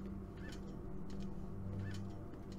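Bird calls in the game Fahrenheit: Indigo Prophecy Remastered, a couple of short honking, goose-like squawks repeating against a steady ambient background, moderately distant and without talk.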